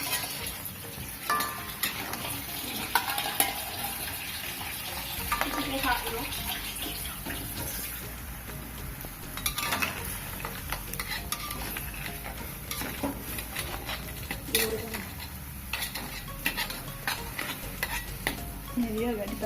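Crab simmering in a broth that is cooking down, stirred steadily, with a continuous bubbling, sizzling wash and scraping stir strokes. Close and moderately loud throughout, with no talk over it.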